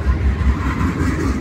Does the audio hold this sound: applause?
no